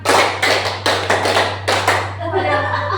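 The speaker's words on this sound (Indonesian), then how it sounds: "Masih iramanya harus barengan ya." Rhythmic group clapping in a school workshop, five or six sharp unison claps spaced evenly and fairly close, with a low hum beneath and a voice starting to speak as the claps end.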